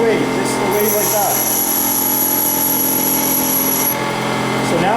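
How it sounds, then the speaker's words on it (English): A twist drill's heel is ground on a bench grinder, a steady high whine with a sustained gritty grinding tone over several seconds, the motor pitch dipping slightly at the end, while someone talks over it. "all that I'm going to do is grind the heel of the drill. Okay, I'm grinding it right away"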